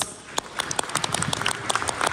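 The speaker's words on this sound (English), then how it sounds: "Can we give Riway a round of applause, please?" Seminar audience at a leadership training event in Warsaw, Poland applauding, scattered claps that build from sparse to a fuller patter over about two seconds.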